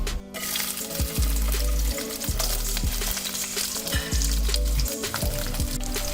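Prawns fry in hot oil in a wok, a close crackling sizzle with repeated low thumps and scraping from stirring, steady and loud throughout.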